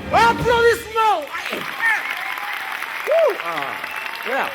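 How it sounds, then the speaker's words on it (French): A crowd at an outdoor jazz concert in the woods claps steadily in the background, while voices whoop and shout loudly over the clapping. "Applaudissements!"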